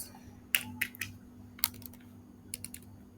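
Quiet, sparse keystrokes on a computer keyboard while HTML code is written, short clustered clicks in small bursts with pauses between, close and clear over a faint steady hum, no talking.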